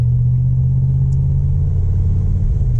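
A 1967 Corvette Stingray coupe with side pipes and a 4-speed gives a loud, steady, deep rumble while driving along, close and unbroken.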